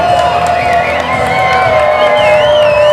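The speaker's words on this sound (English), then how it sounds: "This crowd is electric." A packed wrestling crowd at a Dungeon Wrestling six-man tag match roars and cheers loudly and continuously, with shouts and whistles rising above the dense din.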